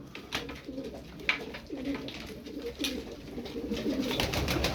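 Tumbler pigeons coo in a loft, a steady run of soft, low rolling coos repeating close by over a faint background hiss, with no voices.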